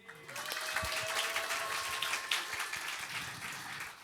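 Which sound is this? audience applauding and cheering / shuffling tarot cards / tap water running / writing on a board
audience applauding and cheering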